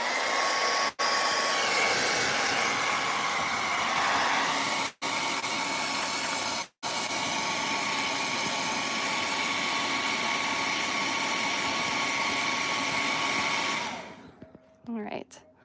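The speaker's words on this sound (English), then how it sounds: "I'm gonna go ahead and take this blow dryer to it real quick." A handheld blow dryer runs steadily on a painting to dry dark wet paint, a loud continuous whir with a few brief cutouts, then switching off near the end.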